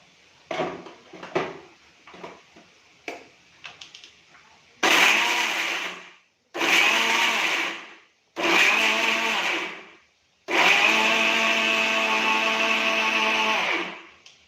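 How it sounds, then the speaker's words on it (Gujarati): A mixer grinder whirs loudly in four separate bursts, starting and stopping, grinding cooled muthiya for churma ladoo, after a few light clinks and taps of the jar. "મિક્સર જારમાં મુઠિયા જે ઠંડા કરેલા હતા એને આપણે પીસી લેશું"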